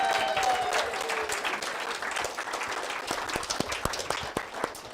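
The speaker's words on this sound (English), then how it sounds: "Give yourselves a round of applause." An audience at a book presentation claps in a broad burst of applause that thins out into scattered individual claps by the end.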